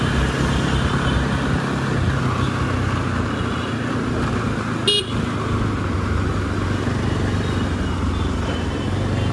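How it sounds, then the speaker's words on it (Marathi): A car moves along a busy Mumbai road toward Dadar's Shivaji Park during Deepotsav, with a continuous engine and traffic rumble, passing vehicles and one brief horn toot midway. "गाडी स्वप्नीलला आता चालवणार"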